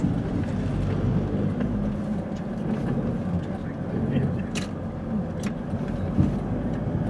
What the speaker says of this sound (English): Just getting out of the way of all the traffic.